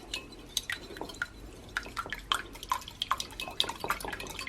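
Water drips and trickles into a bowl of whisked eggs, a close, faint run of irregular liquid plinks and splashes with no talk.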